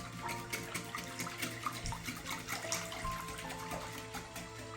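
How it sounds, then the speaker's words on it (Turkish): Water pours from a tap into a pot of homemade Turkish tripe soup, a steady, moderately faint splashing stream that runs throughout with no voices. "Biraz daha su ilave edeyim."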